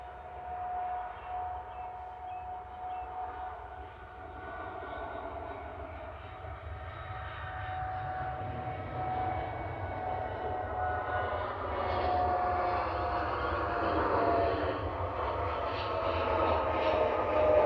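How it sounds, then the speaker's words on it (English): Boeing 787 Dreamliner rolling for takeoff at Manchester Airport, a distant steady engine roar with a faint tonal whine that slowly swells over about eighteen seconds, with no talk over it. "And 2E, the Dreamliner is rolling."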